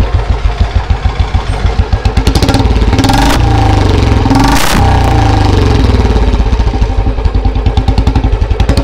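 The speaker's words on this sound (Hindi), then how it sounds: "तो लॉन्ग पंजाब एग्जॉस्ट पे लगा हुआ है, BS4 वर्जन है और साउंड सुन सकते हो आप लोग।" A Royal Enfield Standard 350 BS4 single-cylinder motorcycle idles through a long Punjab exhaust, close and loud. It makes an even stream of deep thumping beats, with a brief blip of throttle around the middle.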